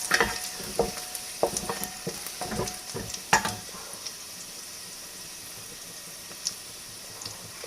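Garlic fries lightly in oil in a kadai with a steady, moderate sizzle, punctuated by sharp clicking stirs early on that thin out into a quieter hiss.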